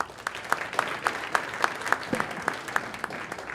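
An audience at a startup event claps in a short round of applause lasting a few seconds. Distinct individual claps stand out in an uneven rhythm, and no voices are heard over them.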